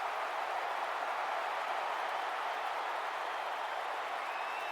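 Steady wash of a football stadium crowd at an arena football game, Milwaukee Iron at Bay Area Invaders, heard as distant, continuous broadband roar with no distinct peaks, constant in level throughout.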